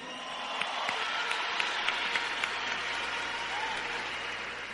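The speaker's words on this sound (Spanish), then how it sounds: "So give a big applause for everybody." An audience claps steadily, a dense, even applause from a crowd that holds for several seconds without letup.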